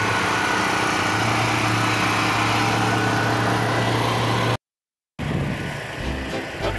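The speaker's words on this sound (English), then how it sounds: "That little generator." A small generator on an RV drones steadily and loudly with a buzzing mechanical hum, cuts out briefly, then resumes slightly quieter.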